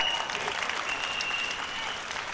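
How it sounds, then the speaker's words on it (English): A school annual day audience breaks into a broad wave of applause for the event's anchors, dense and steady clapping at moderate loudness with a faint tone running underneath. "Please welcome all the anchors of today's great event with a huge round of applause."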